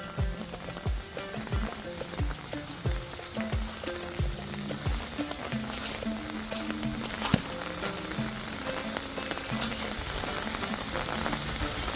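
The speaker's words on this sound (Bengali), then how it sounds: "অঝরে বৃষ্টি পড়ছে" Steady, dense hiss of heavy rain pouring continuously in a village, with a low rhythmic thumping running underneath throughout.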